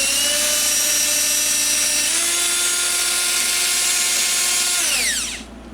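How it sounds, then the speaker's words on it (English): Large power drill boring into the metal chassis of a Dumont television, a loud steady whine that shifts pitch partway through, then winds down sharply as it stops near the end. "I'm just going to reach in here with this big old destructive drill"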